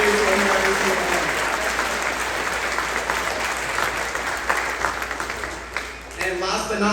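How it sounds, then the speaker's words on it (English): Sustained applause from a graduation audience for teachers and school leaders at a 4th grade ceremony, dense clapping filling the room for several seconds. "let's give a huge round of applause for our teachers and school leaders who are here every single day"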